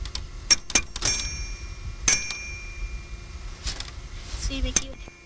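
A bell-type doorbell struck hard, several sharp metallic rings in quick succession followed by scattered fainter dings, with room noise and a voice in between.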